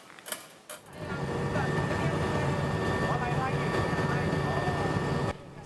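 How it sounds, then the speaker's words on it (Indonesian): Puma military helicopter flying over Mount Semeru, its rotor and engine drone holding steady and loud from about one second in, then cutting off near the end. "Seperti inilah pantauan udara dari helikopter Puma milik TNI di atas Gunung Semeru"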